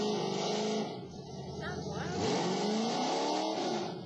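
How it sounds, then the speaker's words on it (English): A car engine with its muffler removed revs in bursts, rising and falling pitch in a raw, loud exhaust tone, with a voice speaking over it. "Took the muffler out."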